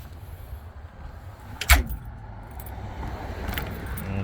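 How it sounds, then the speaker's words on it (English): A single short metallic click and rattle of a key turning in the lock of a storage box on a 2012 Ram 1500 Tradesman truck, heard close over a low outdoor hum, otherwise quiet. "So you turn the key in that position and you could open it."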